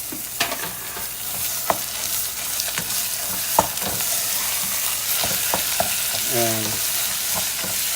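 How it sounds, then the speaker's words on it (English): Hamburger meat fries with onions in a pan, sizzling steadily while a utensil scrapes and clacks against the pan in irregular stirring strokes, with one brief faint word spoken. "What we're gonna do, we're gonna add the hamburger meat"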